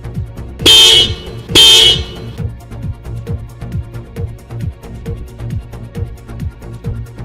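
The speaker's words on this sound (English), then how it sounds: "I must honk to get attention" Two loud car horn honks in quick succession in a racing video game, followed by a rumbling engine with rhythmic ticking underneath.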